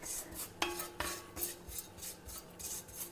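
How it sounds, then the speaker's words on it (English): Grated dry coconut roasting dry in a pan, stirred with a utensil in steady scraping strokes, with a few sharp metallic clinks against the pan, close and fairly quiet. "Now we'll just roast it for a few minutes."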